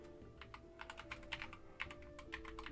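Rapid computer keyboard typing, steady clicks and clacks at close range with a few louder key strikes, under a quiet game music background.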